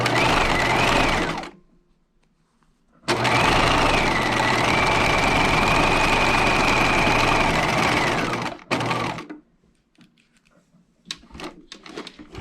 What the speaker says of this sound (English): And sewing the second short end and then back stitching.